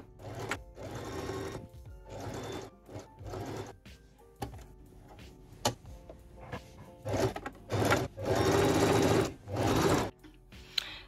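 A sewing machine sews a straight seam on a jacket in a run of rapid, stop-start whirring bursts, some brief and some sustained, close up and with no talking.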